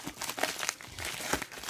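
Plastic wrapper being peeled and crinkled off a Longbai Steeldive SD1970 quartz watch package, a close series of uneven crackling rustles without any speech.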